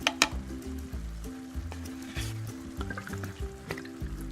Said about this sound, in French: Donc on va rajouter la crème de coco.